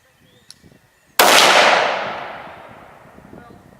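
A single sharp .243 Winchester rifle shot fired at a sticker target, loud and close, with a long decaying echo rolling out behind it; faint talk and movement come just before the shot.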